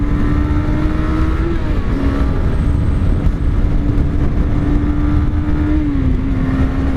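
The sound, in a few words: Suzuki GSX-R 250 motorcycle engine accelerating through gears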